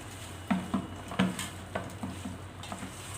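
A spoon stirs a fish curry mixture in a pan, giving soft irregular scrapes and clinks about every half second over a low, steady sizzle.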